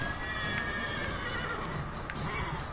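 A horse in The Witcher 3 video game neighs loudly over a dense background of game sounds, with brief hoof clatter mixed in.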